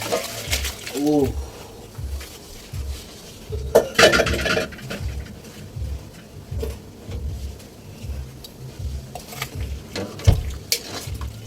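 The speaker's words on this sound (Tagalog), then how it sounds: "Huwag po natin titigilan ang haluin para hindi siya mamusa ilalim." A spoon stirring dinuguan, a Filipino pork blood stew, in a cooking pot, with repeated scraping and clinking against the metal, close up, while someone talks intermittently over the stirring.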